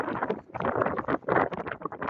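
Wind buffeting a microphone outdoors, rough gusty rumbles that swell and drop in uneven surges over a couple of seconds.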